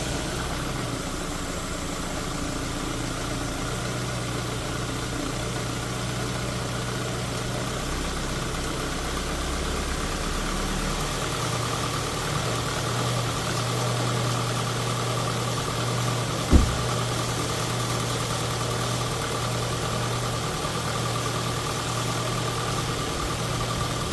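A Ford Focus Mk1 engine idles steadily after new spark plugs and a rocker cover gasket, a constant mid-pitched hum with a brief sharp knock partway through, with no voices present.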